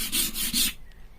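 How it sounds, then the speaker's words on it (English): Scraper rasping over mouldy wood surfaces on a narrowboat, stripping them back to bare wood: three close, loud rough strokes in a steady rhythm, then quiet. "just literally just scraping them back, in some cases right back to wood"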